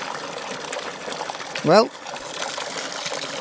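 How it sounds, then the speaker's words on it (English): Dirty water poured from a bucket out into a gutter, a short liquid splash and trickle over steady background noise, with a person talking briefly. "chucked that dirty water, shook it in the gutter"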